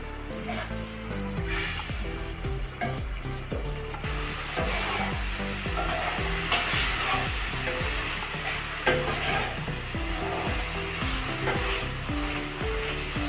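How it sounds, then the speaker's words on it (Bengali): Magur fish curry with ground beans and chilli paste is sautéed in a pan with a little water, giving a steady close sizzle under repeated scraping and stirring strokes throughout, with no talk. "অল্প একটু জল দিয়ে কষে নেব।"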